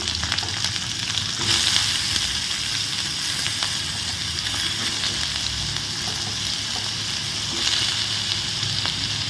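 Cut potatoes are added to hot sesame oil in a kadai, producing a strong, steady sizzle that swells slightly near the start and again toward the end.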